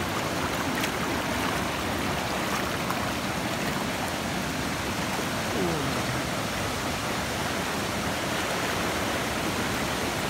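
A waterfall in Pakistan roars as a steady, broad wash of rushing water, constant and close throughout with no pauses, drowning out any other sound.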